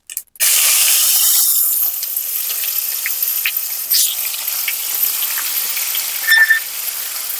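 Onion, ginger and garlic paste hits hot oil with cumin seeds and bursts into a loud, close sizzle, which holds as a steady hiss with small crackles and pops.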